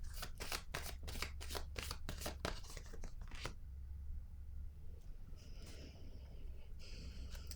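Oracle cards being shuffled by hand, a quick run of crisp riffling flicks for a few seconds that then gives way to quieter handling and faint rustling, with no talk.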